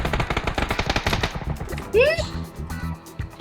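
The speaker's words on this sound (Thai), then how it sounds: "มันยิงเพื่อนอยู่" Rapid bursts of gunfire in the battle-royale game PUBG, dense automatic shots rattling in quick succession through the first half, then sparser shots as a player talks over the action.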